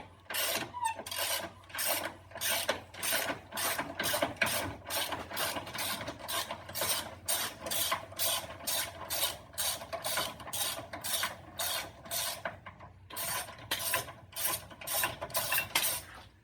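Wrench ratcheting off a snapped bolt through a nut welded onto its stub, a steady run of sharp rhythmic clicks and rasps close by, with a brief pause before the clicking resumes.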